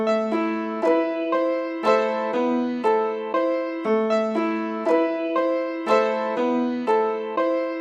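A chopped piano sample treated with EQ and reverb for a beat repeats short chord stabs in a steady looping rhythm, clear and upfront with no voices.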